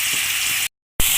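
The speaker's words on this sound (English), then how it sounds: "And now I put in the onion." Onion dropped into a hot pan of vegetables, giving a loud, steady sizzle that cuts out for a moment and then resumes.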